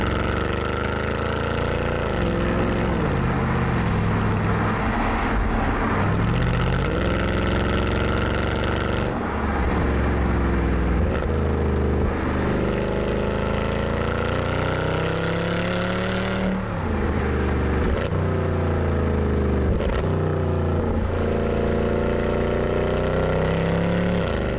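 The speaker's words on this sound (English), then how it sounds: "I'm going to put my foot down and see what this car will do." Mercedes C63 AMG (W204) accelerating hard on an open road, its engine a loud, continuous roar that climbs steadily in pitch through each gear, with brief dips at the shifts before pulling up again, heard from inside the car.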